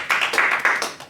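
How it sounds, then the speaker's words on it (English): A handful of people at a meeting clap for Nancy, about five quick, close bursts of hand claps in a short, sparse round with no talking. "so we're just gonna clap for Nancy"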